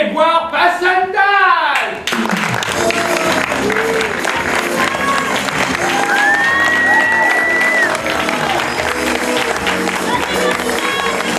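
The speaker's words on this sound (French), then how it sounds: "D'applaudissements" An audience at a show bursts into loud, dense clapping and cheering, with scattered whoops rising above it, after a spoken line at the start.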